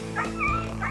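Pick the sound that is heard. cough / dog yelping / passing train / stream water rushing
dog yelping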